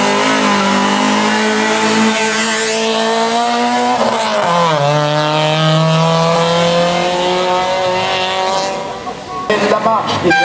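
A 1968 historic 424 accelerates away at the start of a historic hillclimb at Salins, its engine note climbing steadily and loudly through the gears while a commentator talks over it.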